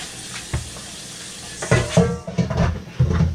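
Banana pudding cooking in a pot on a stove, stirred steadily by a spoon that scrapes the pot bottom in repeated strokes over a low sizzle, close and clear.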